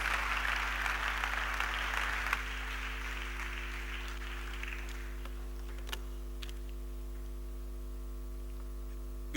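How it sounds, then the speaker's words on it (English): Seminar audience applauds to welcome a speaker, a fairly faint, brief wash of clapping that fades out over a few seconds, leaving a steady electrical hum and scattered small knocks. "Let's welcome him with a round of applause."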